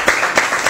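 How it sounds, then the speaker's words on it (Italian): Audience applause welcoming a guest at a talk hosted by a foundation, a short burst of dense clapping, loud and close. "facciamo un applauso di benvenuto ad Arnaldo"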